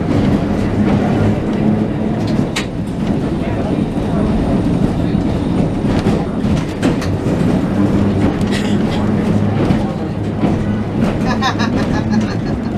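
A Christchurch city tram running on its rails, with a steady rumbling roll, rhythmic wheel clicks and occasional squeals, heard close from on board with faint background voices.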